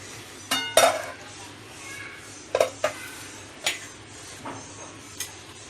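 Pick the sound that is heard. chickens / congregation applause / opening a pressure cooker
opening a pressure cooker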